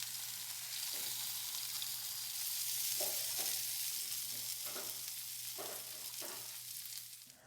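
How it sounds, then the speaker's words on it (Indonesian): Chicken skin for ayam bakar taliwang sizzles on a stove for about a minute, a steady soft hiss with occasional pops and crackles and a faint low hum beneath, with no voices. "Setelah kita panggang kembali bagian kulit kira-kira selama 1 menit"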